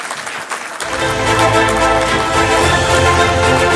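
Audience applause at the FICCI Higher Education Summit 2024 award ceremony as Amity University, Uttar Pradesh is named winner, a loud, steady wave of clapping that swells in after a quieter moment and fills the rest.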